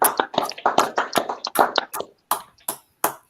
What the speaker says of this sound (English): Let's clap it up for that priest